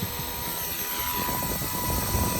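A Blade 230S RC helicopter lifts off outdoors on a cold day, its rotor producing a steady, close whirring drone with a tonal whine that holds even throughout.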